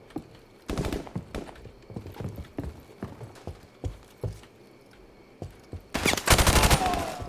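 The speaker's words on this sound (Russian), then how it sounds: "Никого нету, а кто-то стреляет." Gunfire in Call of Duty: Modern Warfare Remastered, with scattered sharp shots and short bursts spread across the scene, ending in a loud, dense volley, with no talking.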